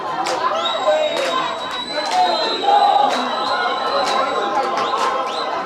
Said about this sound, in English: you can hear the cheers from the Plumtree girls side